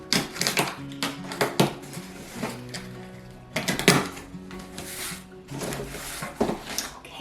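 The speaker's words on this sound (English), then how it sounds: "let me get my scissors and we'll get this box open" Scissors cut open a cardboard mystery box during an unboxing: sharp, close clicks and crunching snips in irregular clusters, with quieter rustling between them and no talking.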